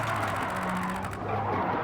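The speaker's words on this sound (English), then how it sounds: "Hey, that was a clean drift." A car drifting in Gran Turismo 7 gives a steady engine drone with a sustained tire squeal layered over it, loud and close throughout the short burst.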